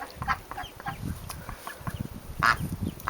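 Baby ducklings and a mother duck call near a nest, with repeated short peeps and quacks scattered through a few seconds over outdoor rustling, fairly close.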